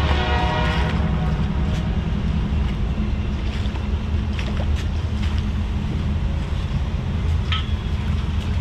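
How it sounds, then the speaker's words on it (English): Low, steady rumble of a passing train heard from a distance, continuous throughout with faint wind and occasional higher clanks on top. "Train's going by, but you can't see the train from here."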